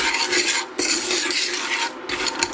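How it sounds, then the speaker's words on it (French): Roasted peanuts being stirred with sugar in a pan over low heat give a steady close-up rasping, scraping rustle that goes on without a break. "on est sur un feu qui est doux, qui n'est pas trop fort, et on n'arrête pas de mélanger."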